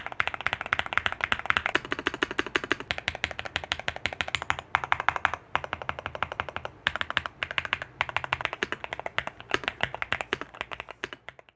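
Fast, continuous typing on a Newfie Halo 75 mechanical keyboard with Raspberry switches and custom keycaps, dense creamy, thocky keystrokes close up with brief pauses between bursts.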